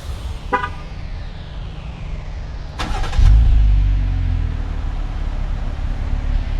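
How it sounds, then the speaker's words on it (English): A Jeep Gladiator Sport pickup starts by remote start: a short chirp sounds, then a second chirp, followed by the engine cranking and catching into a low, steady, fairly quiet idle that continues to the end. "Also has the remote start, so give it a little start for you too, so you can hear how it sounds."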